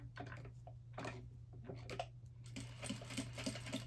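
A sewing machine runs a basting stitch along a bag interior, a close, steady rapid mechanical patter with a constant motor hum beneath, pausing briefly before resuming.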